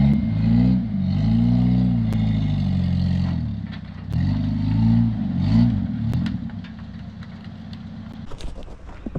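Engine of a 1985 Jeep Cherokee Chief runs loud and close with a rough, throbbing idle, rising in two revs before easing back to a steadier rumble, then some clatter and rattling near the end.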